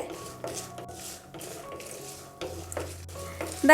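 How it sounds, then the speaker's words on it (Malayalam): Soft sizzling of peanuts and lentils frying in oil in a pan for lemon rice, with light stirring scrapes and clinks throughout. "ഇതെല്ലാം കൂടി ചേർത്തിട്ട് വേണം ഒരുമിച്ച് ഇതുപോലെ ഒന്ന് വറുത്തെടുക്കാനായിട്ട്."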